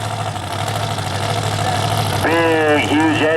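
A 1970 Plymouth Superbird with a big fuel-injected engine idles loudly at a drag strip during Mopar Days, with a steady low drone, and a voice talks over it toward the end.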